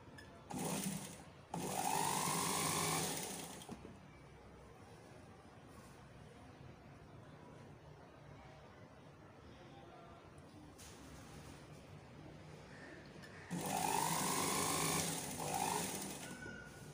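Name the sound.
sewing machine stitching a frock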